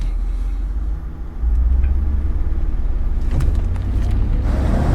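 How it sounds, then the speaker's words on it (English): A cheap sports car accelerates hard through the gears, its engine rumbling low and steady, then swelling louder after a shift, with a brief change in tone near the end as revs climb again. "So I'm in first gear, and then when I'm near the red line, I'll shift it into drive and then keep going."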